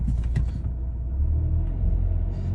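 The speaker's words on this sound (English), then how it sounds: "When I press gas pedal, it is like tearing, and then it's going to change the gear." VW Passat engine under throttle with a faulty, tearing gear change, a loud close low rumble and drone that holds steady throughout, with brief higher mechanical noise near the start and end.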